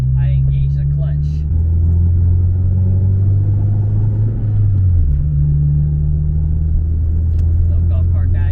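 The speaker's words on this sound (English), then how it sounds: "it feels smoother when I give it a good rev right before I engage the clutch" A daily-driven car fitted with a new transmission and lightweight flywheel gives a loud, close engine drone that steps up and down in pitch as it revs and accelerates, with a few brief voices over it.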